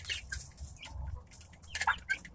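Young chicks, freshly arrived and including one cockerel, chirp and cluck in quick irregular bursts, soft but close, with rustling in between and no talking.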